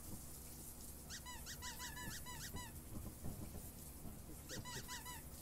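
Repeated high-pitched squeaks in the video game Lethal Company, a quick run of chirping squeals followed by a second short burst, loud and close over a rumbling, noisy background.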